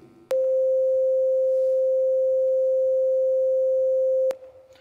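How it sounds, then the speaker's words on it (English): A pure sine tone at a single fundamental pitch, part of a demonstration of overtones for piano preparation, sounds steadily and evenly for about four seconds, starting and stopping abruptly with quiet surrounding it. "So this is the fundamental frequency."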